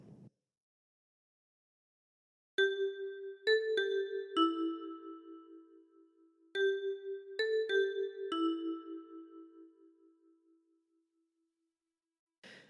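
A phrase of Silent Night on a ten-key kalimba: two matching groups of four plucked metallic notes, close and clear, each group ringing and fading, framed by brief faint sounds at the edges.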